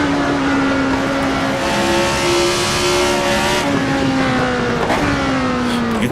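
A Tyrrell 002 race car in the Assetto Corsa racing game holds high revs in fifth gear with its short gearing, a loud, steady, buzzing engine drone that rises in pitch, then dips briefly at a shift and climbs again.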